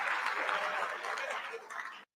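An audience claps steadily, a dense close patter of many hands with faint voices mixed in, cutting off abruptly near the end.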